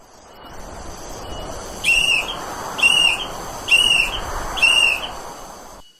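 A shrill whistle blown as a distress signal during a mountain hike sounds four evenly spaced blasts, each lasting about half a second, over a steady hush of outdoor background noise.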